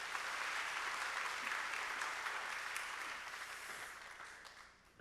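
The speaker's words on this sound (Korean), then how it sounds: "박수로 격려하면서 모시겠습니다" A church congregation claps steadily to welcome a pastor at a worship service, a dense, even wash of applause heard from a distance that gradually tapers off at the end.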